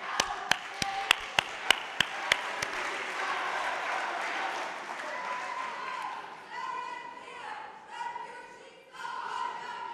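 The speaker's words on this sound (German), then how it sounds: "Beifall bitte." Audience at a party congress in Magdeburg bursting into steady, dense applause that carries on for several seconds before fading unevenly, with a few sharp claps standing out at the start.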